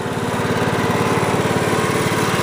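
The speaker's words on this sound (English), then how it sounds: "There's the engine running right there." A Honda riding mower engine runs at low speed with a steady, close, continuous rhythmic drone and fast regular firing pulses, with no voices.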